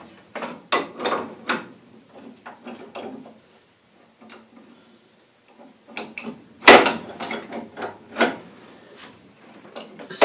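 A spanner wrench tightens a pipe fitting in a series of scattered mechanical clicks and ratcheting bursts, some near and loud, with quiet gaps between them and no talking.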